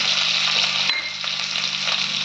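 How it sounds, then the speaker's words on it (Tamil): Crushed garlic and onion fry in a pan for sambar rice, giving a loud, close, continuous sizzle throughout with no voices. "நல்லா கொஞ்சம் ஃப்ரை பண்ணுங்கள்"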